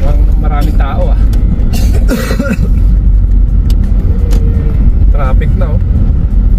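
Road traffic flows around a car near a Costco in Reading, England, a close, loud engine and road rumble with voices and throat-clearing noises over it.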